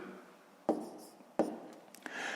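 Pen strokes scratch on paper while writing out fifth-grade fractions, with a few short, close scribbling bursts separated by brief pauses, faint and dry.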